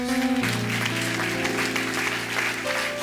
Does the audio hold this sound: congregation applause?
yes